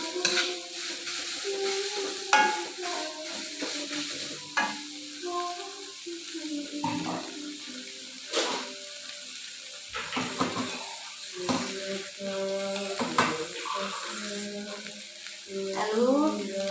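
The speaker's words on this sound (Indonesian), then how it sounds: "kita tumis terus ya, diaduk terus" Spice paste sautéed and stirred in a pan: a spoon scrapes and clinks against the pan in irregular strokes over a soft sizzle, with someone talking over it and a tonal background melody.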